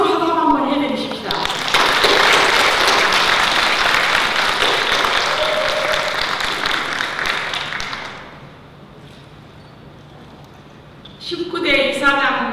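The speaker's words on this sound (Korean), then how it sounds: "임원 모든께 우리 박수로 한번 해드리십시다" Sustained applause from a ceremony audience at a Korean flower design association's chairperson inauguration, a dense, steady clatter of clapping that fades out after about eight seconds, with a voice speaking briefly before and after.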